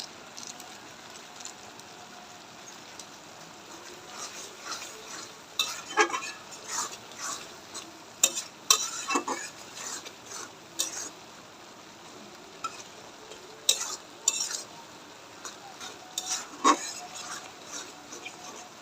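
Maggi masala stirred into a frying potato and semolina snack in a pan, soft sizzling under repeated scraping and clinking of a spoon against the pan, irregular and close.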